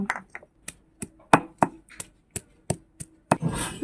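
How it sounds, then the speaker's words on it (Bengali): Peeled garlic is crushed for a Bengali home dish: about a dozen evenly spaced, close thumps, then a short rustling scrape at the end. "এখন রসুনটা আমি থেতো করে নেব"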